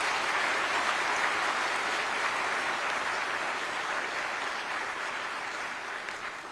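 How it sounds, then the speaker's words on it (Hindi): An audience applauds to welcome Vice President Jagdeep Dhankhar at a silver jubilee celebration, a dense, even wash of clapping that holds steady and slowly fades slightly toward the end, with no talk. "हम सब जोरदार तालियां बजाकर उनका स्वागत।"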